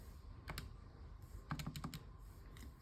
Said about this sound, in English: I might just type that in